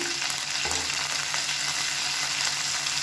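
Curry leaves, mint leaves and a handful of coriander leaves sautéing in a pan, a dense continuous sizzle with faint stirring movement, close and steady without voices.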